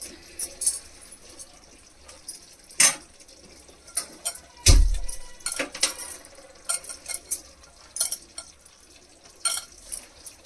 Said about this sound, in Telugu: మంచిగా కలుపుకోవాలండి